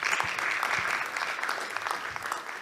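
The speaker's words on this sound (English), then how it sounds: "Let's give you another round of applause." Audience applause at a bank-sponsored business breakfast meeting, steady dense clapping from a room of guests throughout, fairly even in level with no voices.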